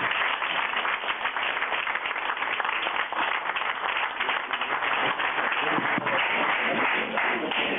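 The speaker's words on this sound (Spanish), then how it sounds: "les pido por favor un aplauso para todos ellos" An audience at a seminar gives sustained applause, a dense, steady wash of clapping that runs through the whole stretch without a break.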